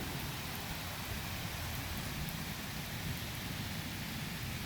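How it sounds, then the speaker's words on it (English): Steady rain pours during a thunderstorm in a wind-driven storm that knocked out power, a dense broadband hiss holding even and unbroken throughout, with no distinct thunder cracks or voices. "it's not as windy as it was like 5 minutes ago, but it's still raining."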